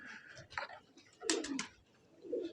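Pigeons coo softly in short, throaty bursts, with a few low rolling calls spaced across a couple of seconds in a quiet setting.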